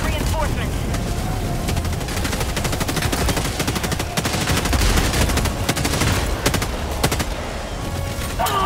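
An energy gun fires in Helldivers 2 in a dense, continuous stream of rapid shots and impacts amid battle noise, loud and close, with some talk over the fire.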